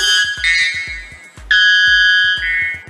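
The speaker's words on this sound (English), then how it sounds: "This is the world's loudest bird." A bird billed as the world's loudest screams in loud, piercing, siren-like calls. Two long sustained shrieks stand alone, with short sharp clicks scattered between them.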